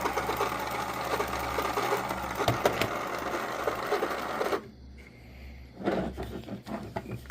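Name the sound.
3D printed rewinder winding 3/4 inch U-matic tape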